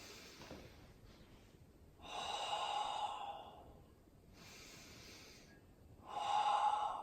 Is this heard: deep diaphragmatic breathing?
yes